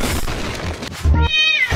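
Cartoon cat meows loudly in a short, harmonic-rich cry partway through, following a burst of busy cartoon sound effects and music, with no talking.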